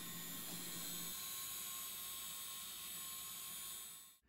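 A DIY garage fume and dust extraction system pulls air into a ventilation port with a steady, high-pitched whooshing roar that stays even and fairly faint throughout, cutting off abruptly at the end.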